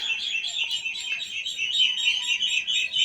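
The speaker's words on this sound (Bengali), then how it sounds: "হাঁসের কিচিরমিচির শব্দ" Ducks chirp and twitter steadily outside by a balcony on a winter morning, a continuous high chatter of many small calls close by, with no other sounds.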